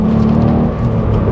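Engine hum from a VW Up GTI held in second gear through a corner, a steady low drone with slight wavering under cabin road noise and no voices.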